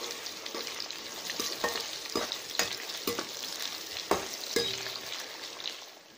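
Onions sizzle in hot oil in a pan on a gas stove while making Hyderabadi red chicken masala, a steady crackling fry with occasional sharper pops and stirring scrapes, close and without talk.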